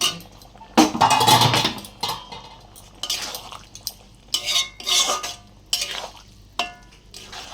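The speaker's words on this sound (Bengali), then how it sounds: "এবার এটাকে কষাবো" A utensil scrapes and clinks against a pan as lote fish is stirred and sautéed, a series of irregular bursts of scraping with metallic knocks, close and fairly loud, with quieter gaps between strokes.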